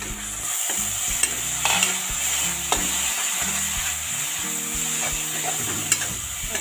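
A tomato and green chilies fry in a pan of spiced oil for a raw papaya curry, with a close, continuous sizzle and sharp utensil clacks as they are stirred, and quiet background music underneath.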